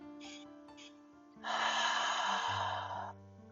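A single audible "ha" breath pushes out during a yoga session, a breathy rush with soft breathing sounds before it and no talking.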